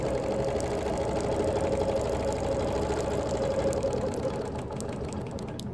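A sewing machine runs continuously while machine quilting a Baltimore album quilt, a steady mid-pitched motor hum with a fast mechanical needle rattle, close and even in level throughout.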